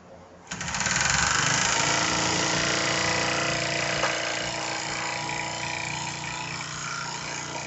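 A small HHO gas-fueled brass engine runs steadily and fairly loud after a sudden start, a fast mechanical chatter with a faint voice underneath.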